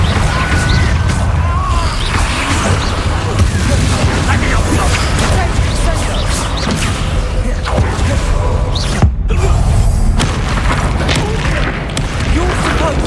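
Confringo fire spells in Hogwarts Legacy blast repeatedly amid a dense, loud battle of booms, crashes and thuds, with a voice talking over the action.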